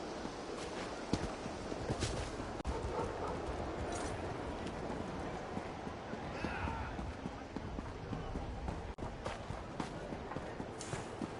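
Horse hooves in The Elder Scrolls Online clip-clop in a steady trotting rhythm over a busy, noisy background, with voices murmuring underneath.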